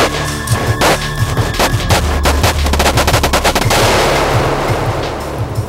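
A specially constructed high-pressure research gun at Caltech in Los Angeles fires, giving loud rapid bursts of sharp cracking reports followed by a rushing, noisy roar that slowly fades.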